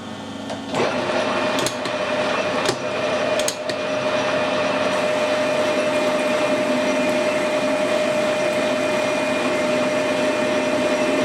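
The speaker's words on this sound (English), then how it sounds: "I'm just using a high-speed steel tool bit. Take a 1/2 mm cut, 1/2 mm aside, that's 1 mm." A metal lathe takes a half-millimetre cut with a high-speed steel tool bit, giving a steady loud whirring drone with a few sharp clicks early on, running alone throughout.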